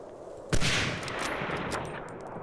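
Gunfire in the World War II shooter Medal of Honor: Allied Assault: one loud, sharp shot followed by a short scatter of quicker reports, all against a steady background din.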